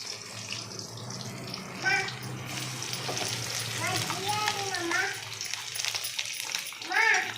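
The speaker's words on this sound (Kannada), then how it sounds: "ಬರೀ ಎಣ್ಣೆಲೆ ಫ್ರೈ" Dondakai (ivy gourd) frying in plain oil with onion paste, a continuous close sizzle with occasional stirring scrapes, while voices talk over it in several bursts.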